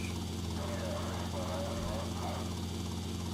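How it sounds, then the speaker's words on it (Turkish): Helicopter rotor and engine drone from Grand Theft Auto Vice City, a steady continuous hum and whir at even loudness throughout. "helikopterle gidiyorum abi"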